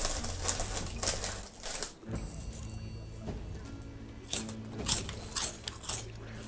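Crisps from a large packet are eaten in a pirate video game, with a series of crunchy bites and rustles in an uneven rhythm. A low hum runs in the background, and no one speaks.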